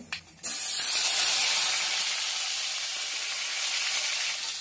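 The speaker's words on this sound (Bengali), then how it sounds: "আলু ভাজা তেলের মধ্যে কালো জিরে ফোড়ন দিয়ে দেব।" Nigella seeds and a chopped tomato hit hot oil left from frying potatoes, bursting into a loud, steady, hissing sizzle that starts abruptly after a brief quieter moment and holds close and dense throughout.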